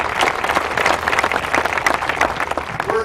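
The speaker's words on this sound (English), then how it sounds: "So I want to give a round of applause to all of you." A room full of guests at a corporate anniversary event breaks into vigorous applause, with dense, steady clapping and a few louder individual claps standing out throughout.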